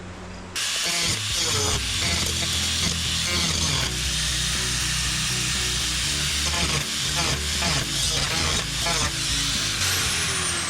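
Abrasive cutoff wheel grinding and slicing through metal on the roof of a 1954 rat rod, a loud continuous harsh whine with fluctuating bursts throughout.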